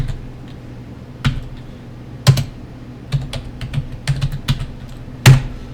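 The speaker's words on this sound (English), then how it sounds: "I just type in Windows Updates" Typing on a computer keyboard, sparse, close-up key taps with a few sharper clacks and gaps between keystrokes.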